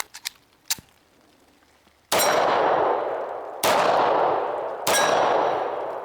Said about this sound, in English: I have 3 rounds loaded up here, and we'll see if these cycle.